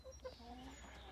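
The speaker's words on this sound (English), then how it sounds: "Lucy, we're talking to other chickens now, so if you could just tone it down, that would be great." Backyard hen giving a few quick, faint clucks close by, short and choppy over quiet background.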